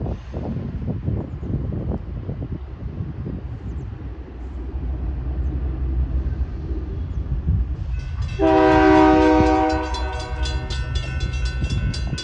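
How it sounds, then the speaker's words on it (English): A Union Pacific autorack freight train rumbles through the McKinley Avenue crossing in Lathrop, California, with steady wheel and wind noise, then the horn sounds a loud sustained chord near the end. "Here comes a Union Pacific Autorack train at McKinley Avenue in Lathrop."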